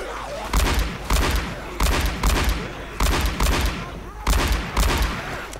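Gunfire in the zombie shooter Left 4 Dead 2, heard as loud bursts of rapid shots recurring about every second in a steady rhythm, close and punchy, with no talking over it.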